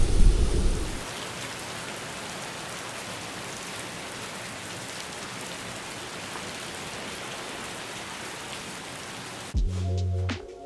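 Heavy rain pours steadily during a thunderstorm at a Florida Keys bridge, with a dense unbroken hiss throughout, a loud rumble at the start and another low boom near the end.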